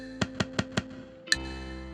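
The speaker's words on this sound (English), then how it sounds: "when you click on reset, you hear it click sound" Four evenly spaced sharp clicks from a button click sound effect in a Python Kivy app, followed by one more click over a steady electronic hum.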